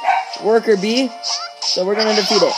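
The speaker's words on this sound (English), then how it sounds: "Sorry for my dogs barking." Dogs bark in the background of a room while a person keeps talking over them, the barks mixed with and partly masked by the steady speech.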